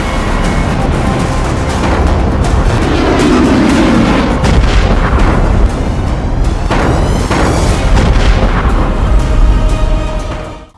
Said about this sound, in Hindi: यह मिसाइल जमीन के अंदर घुस जाती है और फिर जोरदार धमाका करती है